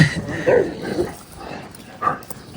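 A dog gives a few short yips and whimpery barks close by, with a person's voice mixed in the background.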